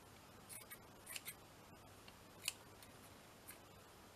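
Scissors snip a small section of cheesecloth for a craft booklet: a handful of soft, quiet, close cuts spaced irregularly over a hushed background.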